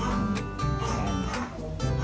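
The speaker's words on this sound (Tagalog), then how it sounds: "Yan si Mocha, pinakamatanda naming aso" A family's oldest pet dog barks and yips in a home setting, the short calls repeating at close range over background noise.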